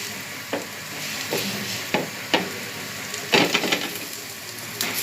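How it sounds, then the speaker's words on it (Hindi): Makki ki roti, a corn flatbread, cooking in ghee on a griddle over low heat, with soft sizzling and several scattered scraping or tapping knocks as it is turned. "ये साइडों पर हम इसको घी डालेंगे और इसको घुमाएंगे ताकि अच्छे तरीके से ये पक जाए"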